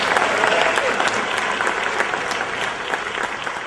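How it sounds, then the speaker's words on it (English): Sustained applause from an audience at a Juneteenth Real Father Awards presentation, dense and steady clapping that holds at an even level throughout. "All right, once again, another round of applause"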